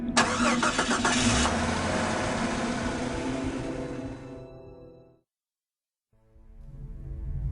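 A truck engine cranks and catches, running loud and close with a rough, steady roar for several seconds, then cuts out to silence before rumbling back in, part of a wartime audio drama scene.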